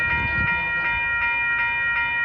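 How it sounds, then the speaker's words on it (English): A San Jose-bound Caltrain limited-stop train at a street crossing, with steady ringing crossing bells pulsing in a regular rhythm over a low rumble of wheels and traffic, no voices. "Gates are going down for train 412. San Jose bound limited stop train."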